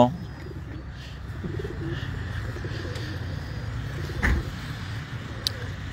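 Pigeons coo low and steady at Inani beach in Cox's Bazar, where a vehicle carrying racing pigeons has arrived. Wind and a vehicle rumble sit behind the birds, and one louder bump comes near the end.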